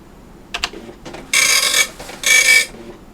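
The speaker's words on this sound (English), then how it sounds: "Press return to test the printer." An Epson RX-80 parallel dot-matrix printer, hooked to an Apple IIe, gives a few faint clicks and then two loud, harsh buzzing bursts of print-head chatter, each lasting about half a second, close by with no talk.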